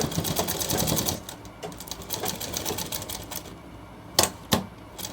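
A sewing machine stitches close to the edge of a shirt cuff in a fast, steady run for about three and a half seconds, then stops, followed by two sharp clicks near the end.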